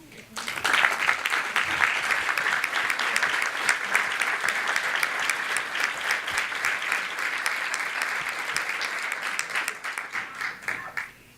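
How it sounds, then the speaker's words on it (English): A large crowd at a Women's History Celebration applauds steadily for about ten seconds, dense clapping that swells quickly and holds before tapering off at the end. "Will you please stand for a round of applause?"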